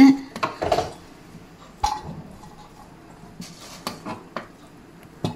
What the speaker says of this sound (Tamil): சாப்பாடு வந்து நம்ம கிளறதுக்கு கொஞ்சம் எடுத்துக்கலாம்